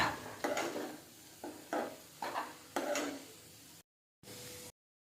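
Spinach and meal maker curry being stirred in a pan after salt is added, with a series of separate scraping, clinking strokes against the pot and faint sizzling between them.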